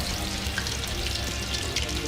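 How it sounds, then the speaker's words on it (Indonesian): Bananas fry in hot oil in a pan, giving a dense, steady crackling sizzle with small pops, close up and without voices. "Sementara saya menggoreng pisang,"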